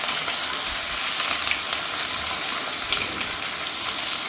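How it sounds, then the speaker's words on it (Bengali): Onions sizzle in hot oil with bay leaf as the base for a thin mutton curry, a loud continuous frying crackle that holds steady from start to finish with no voices. "পেঁয়াজটা ভাজাভাজি চলছে।"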